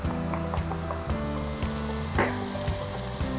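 Onions sizzling in a frying pan with spices for a low-carb chili, a steady crackle with rhythmic scraping and tapping from stirring.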